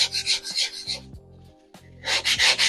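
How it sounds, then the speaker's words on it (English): Sandpaper scraped over a model asphalt road surface to roughen and dull it: two bursts of quick, rhythmic rasping strokes, close and fairly loud, separated by a short quiet pause. "So I just give it a scrape of sandpaper to rough it up a little bit"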